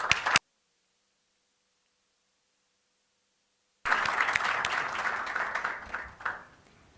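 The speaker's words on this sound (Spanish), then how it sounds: "Démosle un fuerte aplauso." An audience at a political conference applauds a guest speaker, a dense wash of clapping that starts after a silent gap, holds for a few seconds, then fades away.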